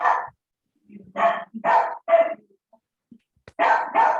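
A dog barks about six times in short, sharp bursts, in two close clusters separated by a brief quiet gap, fairly near and clear against a silent background.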